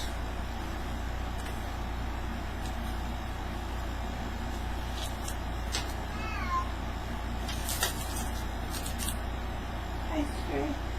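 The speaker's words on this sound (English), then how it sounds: "Is your Stray meowing at me?" A stray cat gives a few faint, scattered meows over a steady low hum, with soft indoor noises and occasional speech around it.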